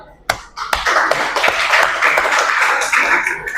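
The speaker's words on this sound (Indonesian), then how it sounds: "Ya, tepuk tangan buat kelompoknya." Students in a seventh-grade Islamic studies class clap for a presenting group, a few sharp individual claps leading into uneven, moderately loud applause from a small room of pupils.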